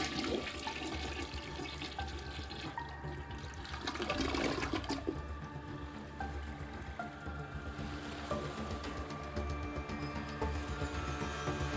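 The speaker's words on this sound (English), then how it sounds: "he flushed the rest of them down the goddamn toilet" A toilet flushes in an animated scene: a long rushing, gurgling swirl of water lasting several seconds, with tonal background sounds running alongside and no speech.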